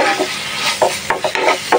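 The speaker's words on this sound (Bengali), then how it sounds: "চিংড়ি মাছ দিয়ে মশলাটা ভালোভাবে কষিয়ে নিলাম" Spice paste stir-fried with prawns in a pan, close and loud, with a rhythmic series of spatula scrapes and pushes over a constant sizzle and no talk.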